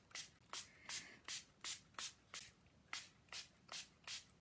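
Quick pumps of a water spray bottle misting pixie powders, around eleven short, crisp hissing bursts in a steady rhythm, close and fairly quiet, with no talk.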